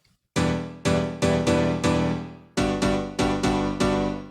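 Piano house chords on piano with no processing, struck in a rhythmic pattern of repeated stabs, each decaying before the next, after a brief quiet start and with no talking.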